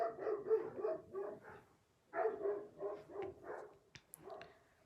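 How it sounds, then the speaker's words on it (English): Several dogs barking repeatedly outdoors, slightly distant, in two rapid runs of overlapping barks with a brief pause between them and a few sharp clicks near the end. "the dogs are seeing something. They've got a lot to say out there"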